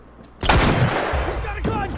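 A loud, close gunshot from an enemy in The Last of Us, one sharp blast with a rumbling tail, followed by a few fainter pops and game noise.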